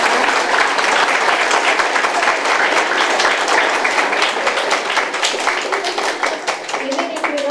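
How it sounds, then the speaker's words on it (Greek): Sustained, dense applause from an audience celebrating children at a peace-themed school event, loud and continuous throughout, with a voice briefly emerging near the end. "μπράβο σε όλα τα παιδιά και ένα δυνατό χειροκρότημα ειλικρινά"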